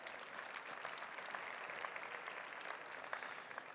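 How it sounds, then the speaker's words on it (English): Steady audience applause at a conference plenary session, dense clapping from a crowd sustained evenly throughout without voices. "Round of applause on Sophie and Marijke."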